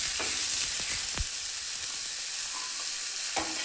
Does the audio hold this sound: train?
no